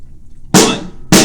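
Two crisp snare drum strikes played with sticks, each a sharp, bright crack with a short ringing decay, close and loud in a quiet room.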